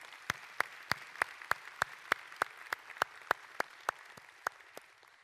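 Clapping during a Spanish-language church service, heard as sharp, evenly spaced claps about three per second, steady and fairly close, with no voices over it.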